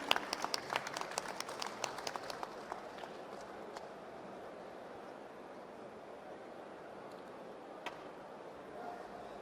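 Conference audience applause, starting as a brief burst of scattered claps up front, then thinning into faint, sparse clapping over a quiet room hum.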